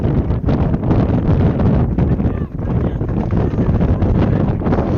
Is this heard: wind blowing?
yes